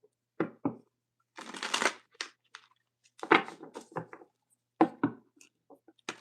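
Oracle cards being shuffled by hand in a quiet room, a series of close, crisp riffling and slapping bursts separated by short pauses, with no talking.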